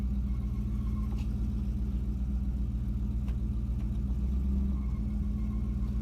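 A budget Chevrolet Camaro on its first drive after a differential replacement, engine droning steadily with a low rumble throughout, heard from inside the car, moderately loud and alone.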